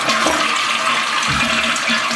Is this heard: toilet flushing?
yes